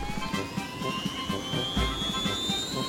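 A helicopter starts up to fly inside a room, with a rising whine that climbs steadily in pitch over a fast, even, rhythmic rotor chop, close and continuous.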